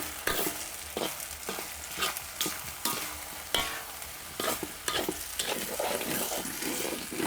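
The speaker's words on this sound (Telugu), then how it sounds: "3/4 గ్లాసు పంచదార కూడా వేసుకుని బాగా కలుపుకుందాం" Roasted semolina being stirred with sugar in a pot for a sweet, giving a steady run of scraping, stirring strokes with a soft sizzle underneath, fairly close and moderately loud, with no voices.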